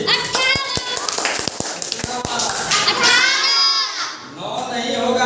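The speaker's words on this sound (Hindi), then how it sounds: "ताली मारिए।" A classroom of children claps in a burst of sharp, irregular slaps, followed by overlapping children's voices and a teacher speaking.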